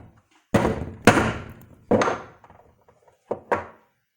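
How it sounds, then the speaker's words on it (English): Tapping a Lee hand loading die to seat a .38 S&W hollow-point bullet: two loud, solid wooden thunks close up, followed by a few softer knocks and handling clatter, with no talking. "Two nice little taps, it's in there"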